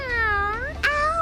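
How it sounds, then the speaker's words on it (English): A cat gives one drawn-out meow, clear and close, followed by a brief rising second meow, likely a sound played from a children's animal sounds toy. "Cat."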